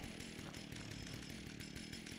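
A chainsaw in a Texas Chainsaw Massacre game runs in a steady, continuous buzzing drone at moderate level, with faint rhythmic pulsing and no voices.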